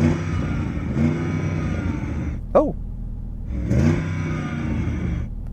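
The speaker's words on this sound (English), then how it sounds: "rev up your engine" An Audi RSQ8 engine revs up sharply once, a quick rising whine, amid a low steady idle and muffled cabin noise.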